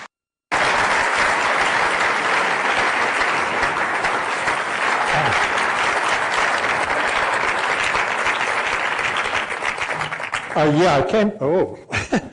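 An audience at a lecture welcoming an artist breaks into sustained, dense applause that lasts about ten seconds. It then fades, and a voice begins speaking.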